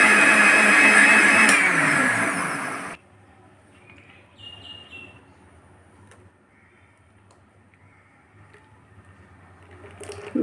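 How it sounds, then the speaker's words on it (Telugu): A kitchen mixer grinder blends muskmelon juice with milk in a loud, whirring roar for about three seconds, then cuts off abruptly, leaving a quiet room with faint background noise. "మిక్సీకి వేసుకున్నానండి"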